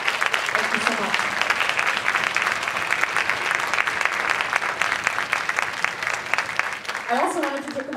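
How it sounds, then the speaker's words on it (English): Concert audience at a spring school symphony and band concert gives a sustained round of applause for administration and staff, steady dense clapping filling the hall, with a voice briefly speaking near the end. "So I just want to give a round of applause to all administration, all staff."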